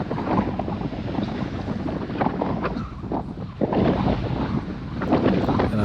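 Strong wind roars steadily across the microphone during a road bike group ride at speed, a loud continuous rush with gusty surges and no voices.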